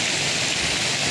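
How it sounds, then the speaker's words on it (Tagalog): Heavy rain pours down in a Manila street district, a loud dense unbroken roar of rainfall close around the listener, with no voices. "medyo malakas talaga ulan."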